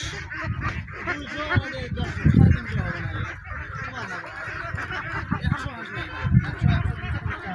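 A flock of farm ducks grazing on grass quack and honk repeatedly, the calls overlapping in loud bursts with steady farmyard background and some voices.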